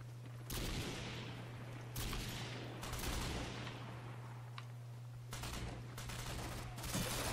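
Repeated bursts of automatic gunfire in the video game Tom Clancy's Ghost Recon Phantoms, rattling volleys of a second or so each separated by short gaps over a steady low electrical hum.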